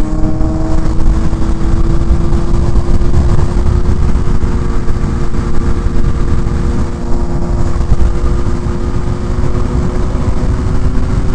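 Motorcycle engine running loud and close, a steady, dense rumble with a continuous low drone that holds nearly unchanged throughout, with no talk over it.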